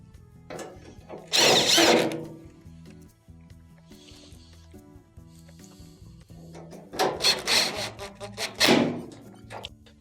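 A power drill drives screws into a Maytag dryer panel in two loud whirring bursts near the start and end, separated by quieter handling and rubbing noises.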